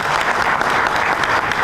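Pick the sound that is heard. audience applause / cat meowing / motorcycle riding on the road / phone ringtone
audience applause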